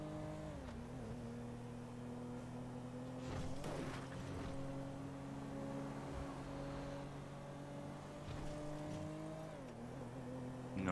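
A car engine in GTA V Online drones steadily with a rough, uneven, broken-sounding tone, its pitch dipping and rising a few times as it revs, fairly faint.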